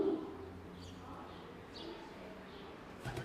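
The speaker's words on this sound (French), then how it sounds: "Ce couloir qui résonna de bruits de bottes et de cliquetis de sabres est maintenant le domaine des oiseaux." Faint bird coos and chirps echo in a stone corridor of an old seaside fortress at Jaffa, scattered over a low steady background hum with no talking.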